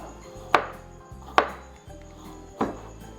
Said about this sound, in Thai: หั่นขิงนะครับ